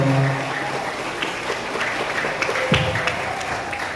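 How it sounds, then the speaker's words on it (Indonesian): An audience of students at an Indonesian school orientation event applauds, producing a steady, moderately loud wash of clapping throughout with a low hum in the room. "Beri tepuk tangan sekali lagi untuk Pak Saryanto."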